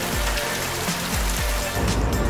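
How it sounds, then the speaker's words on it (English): Rain falling outside a golf dome, heard from inside as a steady hiss and patter with a few soft, regular low thumps beneath it. "I hear rain outside right now."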